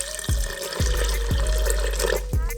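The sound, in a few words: water poured into pot for rice and peas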